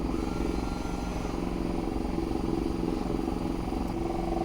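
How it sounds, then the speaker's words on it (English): A Commodore dry bilge system with a four-zone splitter runs its pump as it primes, a steady, loud mechanical drone with a faint rattle that holds without pause from start to finish. "it's going to prime the pump"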